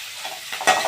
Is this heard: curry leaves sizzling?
yes